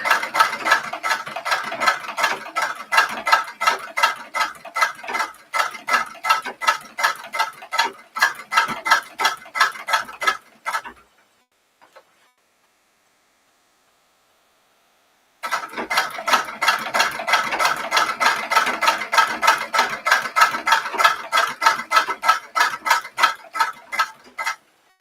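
A sewing machine stitching a summer dress runs in a fast, even mechanical patter. It plays loud and close for about ten seconds, stops for a few seconds of near silence, then starts again at the same steady pace.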